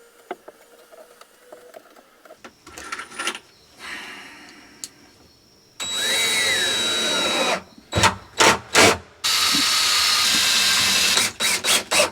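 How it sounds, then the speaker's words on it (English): A power drill drives screws to fasten a wooden countertop down from underneath inside a camper van build, with several loud whirring bursts of varying length and quieter handling knocks between them. "we screwed it down from the bottom here"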